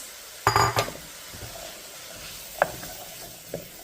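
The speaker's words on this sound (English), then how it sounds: "Add the potatoes." Potato pieces tumble into a hot soup pot that is starting to dry out: a short clattering splash, then a couple of faint knocks over a low hiss.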